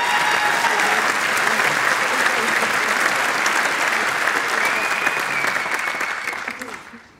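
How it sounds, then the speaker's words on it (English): A large audience applauds warmly at an awards-style screening event, steady dense clapping filling the room for several seconds before tapering off at the end. "I'd like a round of applause, please."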